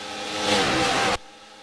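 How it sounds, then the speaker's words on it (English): Racing cars in the NASCAR SEGA Cup Series video game at Pocono, a loud, broad engine roar and tire noise swelling for about a second before cutting off abruptly into quieter background. "I already hear cars screeching"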